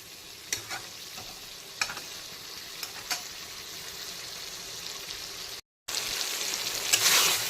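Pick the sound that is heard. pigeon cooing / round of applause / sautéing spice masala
sautéing spice masala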